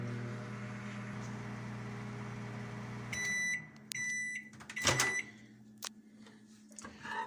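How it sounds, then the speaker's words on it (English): A microwave oven hums steadily, then stops; several electronic beeps follow along with a door clunk and some handling noises. "we're going to microwave it on for a minute"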